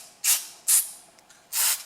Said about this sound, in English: So what I like to do first is just spray the carburetor